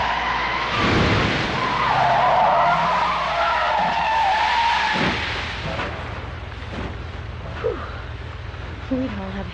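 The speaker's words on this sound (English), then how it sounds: "This is the second car you crashed!" Car skidding with loud tire squeal and a crash in the Deadly Premonition video game, a sustained screech over engine roar followed by impacts and rattling debris, with a voice speaking over it.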